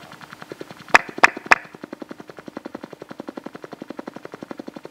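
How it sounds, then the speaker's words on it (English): A sonified gravitational-wave signal of a spinning black hole devouring a neutron star: rapid, evenly pulsing thumps like a fast mechanical beat, opening with three sharp loud bursts, then a steady modulated throb continuing alone. "a spinning black hole devouring a neutron star"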